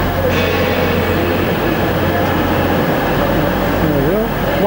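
The Flying Scotsman steam locomotive rumbles loudly into a London station, a steady heavy drone with a brief metallic squeal near the end and faint voices underneath.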